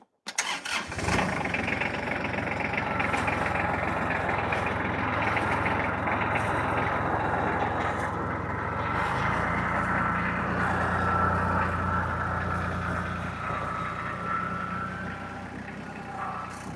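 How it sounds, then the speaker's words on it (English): A tractor engine cranks and catches, then settles into a loud, steady idle that runs the whole time, heard close up beside a rock pile being sorted for a stone wall. "So let's fire up the tractor."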